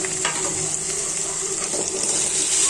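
Onions sizzle steadily in a hot pan for a shapla (water lily stem) stir-fry, with a continuous close frying hiss and occasional stirring scrapes and clinks, no voices.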